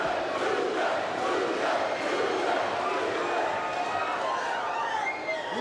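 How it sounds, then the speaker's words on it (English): An arena crowd at a WCW wrestling event chants for Luger, a loud, sustained roar of many voices filling the hall throughout. "And the crowd with that chant of Luger, Luger."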